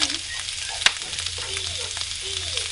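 About a pound of hamburger meat and a chopped onion sizzle in a frying pan with a steady close hiss, broken by a sharp clack and a few light scraping sounds. Nobody speaks.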